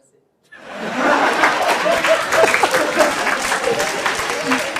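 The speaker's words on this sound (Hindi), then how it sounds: "कहां से सीखी ताली मारनी?" A stand-up comedy crowd bursts into steady clapping laced with chuckles and laughter, starting abruptly after a short silence and staying loud and dense throughout.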